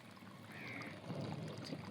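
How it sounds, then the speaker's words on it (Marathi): Water flowing out of an underground channel into a farm field, a soft, continuous pouring and trickling gurgle, faint and close, with no voices. "इथून असा पाणी येतोय तो"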